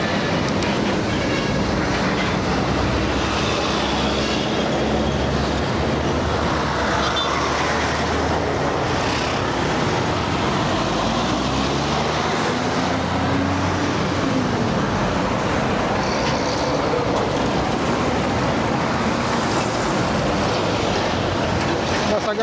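Constant heavy rumbling and grinding drone from a moving vehicle, loud and unbroken, with a worn wheel bearing's rough growl and faint voices now and then.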